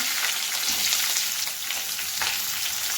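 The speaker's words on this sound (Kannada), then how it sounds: "ಗೈಸ್, ಇದನ್ನು ಸ್ವಲ್ಪ ಚೆನ್ನಾಗಿ ಹಿಂಗೆ ಫ್ರೈ ಮಾಡ್ಕೊಳ್ಳಿ." Onion and curry leaves fry in a hot pan, giving a steady, dense sizzle that carries close and loud for the whole stretch with no voices over it.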